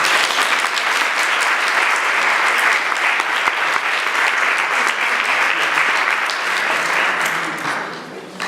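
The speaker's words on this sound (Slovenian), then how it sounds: "En aplavz, prosim." Audience applause welcoming a speaker to the stage at a talk, a loud, dense and sustained clapping from a large crowd that holds steady, then tapers off at the end.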